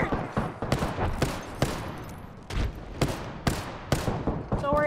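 Rapid bursts of gunfire from the shooter game Apex Legends, loud sharp cracks in quick clusters with short gaps between volleys, and brief game sounds at the end.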